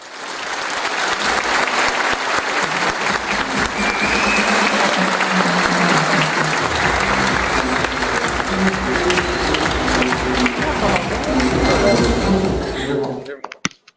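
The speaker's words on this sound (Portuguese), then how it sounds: "receber com uma calorosa salva de palmas o nosso diretor jurídico, meu amigo Fernando Lusvari" Warm crowd applause at an official debate event greeting a legal director, dense clapping for over ten seconds with some voices and shuffling underneath, ending abruptly.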